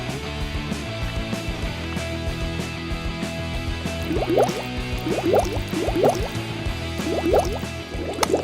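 Water sloshes and drips while stained toy doll clothes soak, with wet squishing and splashing in bursts, close and fairly loud, no voices.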